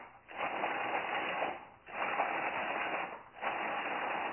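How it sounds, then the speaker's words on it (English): A food processor chops cubed blocks of cheese in three bursts of steady whirring and rattling, each separated by a brief pause, fairly close and moderately loud with no talk. "you're going to toss it in the food processor, put the lid on,"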